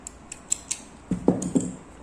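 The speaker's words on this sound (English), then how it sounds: "chain 1 and cut the yarn" Scissors snip through crochet yarn, a few soft close clicks and short crisp cuts near the end, quiet overall with no talk.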